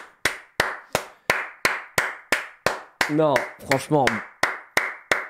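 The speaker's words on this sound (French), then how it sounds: "Allez, on applaudit." Steady rhythmic clapping from a single nearby pair of hands, applause for designers at an arcade event, with a voice talking briefly over the middle of it.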